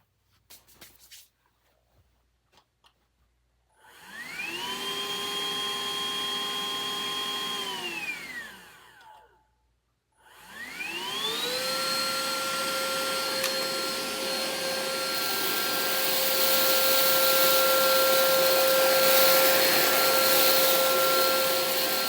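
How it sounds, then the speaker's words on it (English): A Hoover Evolve cordless pet vacuum runs on carpet on suction only with no brush roll, in two bursts of steady whining motor noise separated by a brief pause, the second run long and level. "Let's try on just suction. No brush roll at all, so just hard floor."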